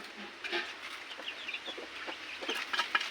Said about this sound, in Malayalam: അടുത്ത കൂട്ടിയതാണ് പൂവൻ കൂവുന്നത്.